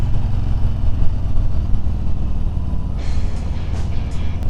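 A Harley-Davidson Street Bob 114 motorcycle pulls hard in second gear, its engine a loud, steady, low rumble close by, with wind noise rising over the last second or so.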